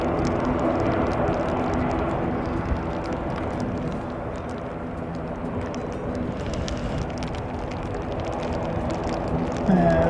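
A Qantas airliner passes at a distance, heard as a broad, steady roar and wash of jet noise that holds across the whole stretch with little change.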